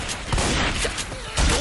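Gunfire in the zombie shooter Left 4 Dead 2, Hard Rain campaign: dense, continuous bursts of shots with booming impacts, loud and close, with louder volleys near the start and end.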